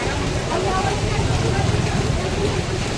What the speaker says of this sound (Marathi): मुसळधार आहे पाऊस, आता थोडं कमी झालं आहे.